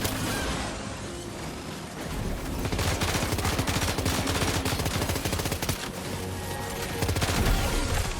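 Enemy gunfire in the video game Death Stranding 2, rapid bursts of automatic shots crackling loudly and almost without pause, mixed with sharp single pops and heavy impacts.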